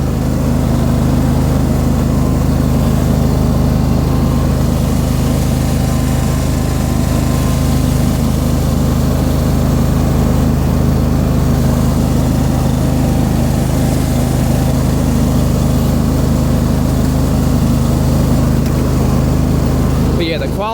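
The engine of a Cub Cadet GT2550 garden tractor runs steadily and loudly the whole time, a constant low mechanical drone with a slight rumble, close by and without pause.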